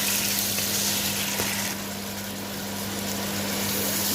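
Minced beef keema frying in a pan for aloo matar keema, a steady broadband sizzle running evenly throughout with a low constant hum underneath, no voices.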